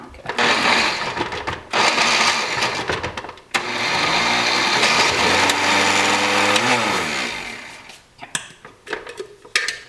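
Close, loud grinding of a food processor turning cauliflower into rice, coming in a short burst and then a long sustained run whose motor pitch shifts as it winds down, ending in clattering, with a voice speaking in the gaps.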